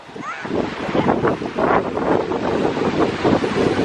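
Ocean surf rolling onto a beach with strong wind buffeting the microphone, a continuous loud roar with rising and falling washes of waves; a brief voice is faintly heard near the start.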